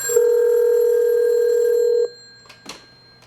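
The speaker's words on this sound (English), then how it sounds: "if we go off hook here, we get dial tone, and I'll go ahead and call myself here" A steady dial tone from an analog Polycom SoundStation conference phone hums for about two seconds, then cuts off, followed by a few short, faint tones as an outgoing call is dialed.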